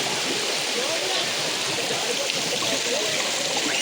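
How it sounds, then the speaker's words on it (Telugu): Tatiguda waterfall pours down in a steady, broad rushing hiss of falling water, constant and fairly close, filling the whole moment without a break. "ఇదేమో నీళ్ళు ఇలా కిందకి వస్తుంది"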